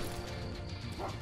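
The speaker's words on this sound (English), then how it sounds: "I hear a dog barking." A dog barks in the video game Call of Juarez Gunslinger, sharp and brief near the end, over a dense, loud game soundscape.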